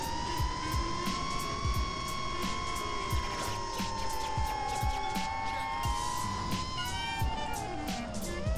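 Motors of an EMax Hawk 5 FPV drone whine at full throttle, a sustained high-pitched buzzing tone that shifts pitch slightly, steady and fairly close, with clicking mechanical ticks throughout.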